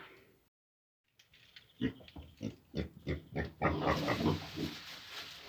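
Vietnamese pot-bellied pigs and piglets grunt in a quick series of close, rhythmic snorts that build after a brief silence, ending in a longer rough burst.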